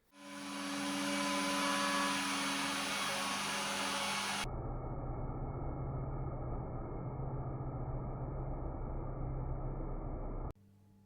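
A router flattening a wooden workbench top gives a loud, steady whining roar that drops to a lower, duller motor drone midway, then cuts off abruptly near the end.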